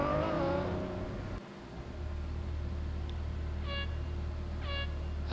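A Ferrari 812 Superfast engine revs in a racing video game, loud at first and then settling into a low steady hum, with a couple of short electronic beeps near the end.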